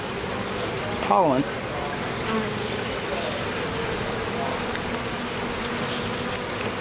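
Honey bees from a swarm-started hive drone constantly during an inspection, a close, dense buzzing with one bee passing right by the microphone in a brief louder sweep, while a person talks over it.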